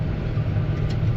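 A tractor pulls a batwing mower at work in a field, giving a steady, close, low engine drone with no break in rhythm and no talk over it.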